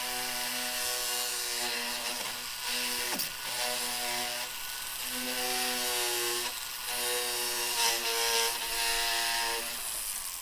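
A polishing wheel grinds a steel burnisher under downward pressure, giving a continuous motor hum with a rising and falling tonal whine as the metal is pressed against the wheel, close and steady.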